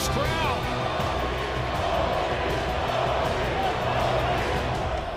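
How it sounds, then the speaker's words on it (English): A hockey arena crowd roars for an Ovechkin goal, a loud, continuous wall of cheering and shouting that holds steady for the whole stretch. "Listen to this crowd!"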